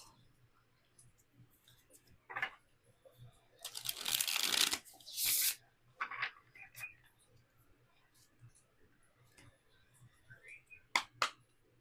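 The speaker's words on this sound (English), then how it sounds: "We're just going to do a few shuffles" Soft riffle-and-slap sounds of tarot cards being shuffled up close, in a few short bursts with quiet clicks and pauses between them.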